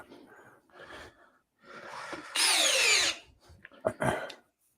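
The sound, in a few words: Milwaukee and DeWalt 12V cordless drills running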